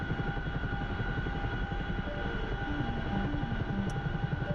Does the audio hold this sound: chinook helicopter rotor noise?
yes